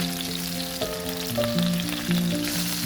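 Chicken breast frying over medium heat in a pan, a steady close sizzle and crackle holding throughout.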